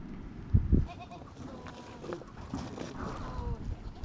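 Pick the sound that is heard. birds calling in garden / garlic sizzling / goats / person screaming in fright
goats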